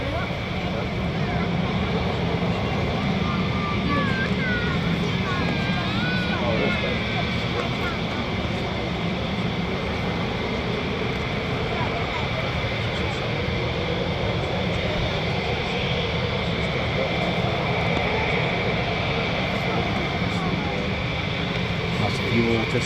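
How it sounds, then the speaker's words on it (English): F-15E Strike Eagle jets of the 494th Fighter Squadron roar steadily during takeoff at RAF Lakenheath, a dense, continuous engine rumble with someone talking over it throughout. "you're watching the 494 Fighter Squadron Panthers with their F15E Strike Eagles"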